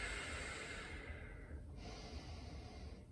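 Deep, slow breathing during a yoga flow class: a long audible exhale followed by another drawn-out breath, close and soft, with no speech.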